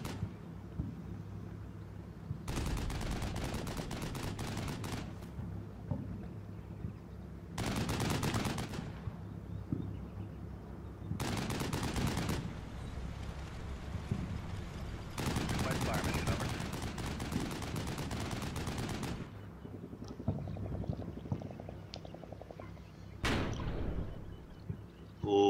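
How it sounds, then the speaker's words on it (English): Artillery fire in the Cold War video game Cold Millennium Cold War: repeated loud booming salvos in irregular bursts, each with a long rumbling tail, spaced over several seconds. "Time for some artillery."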